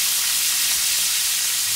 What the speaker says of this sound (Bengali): ম্যারিনেট করে রাখা চিকেনগুলো আমি তেলের মধ্যে সব একটা একটা করে ছেড়ে দিলাম